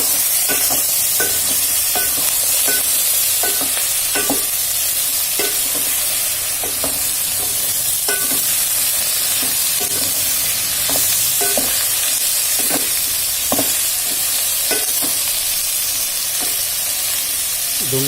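Tomatoes frying with masala in a pan for a veg biryani, a steady sizzle and hiss broken by frequent scraping stirs and clinks of a spoon against the metal, close and continuous with no talk.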